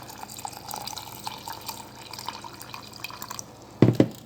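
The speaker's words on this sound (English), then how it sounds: "add water" Water trickles and drips softly into a rice pot in a Keith Ti6300 titanium cooker, ending in two louder splashing pours near the end.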